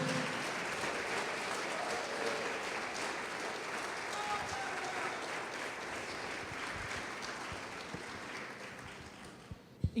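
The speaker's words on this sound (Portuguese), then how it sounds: "Pode aplaudir, glorificar o Senhor." A church congregation applauds during a sermon: dense, sustained clapping from many hands with voices mixed in, holding steady for several seconds before thinning out and ending with a few scattered claps.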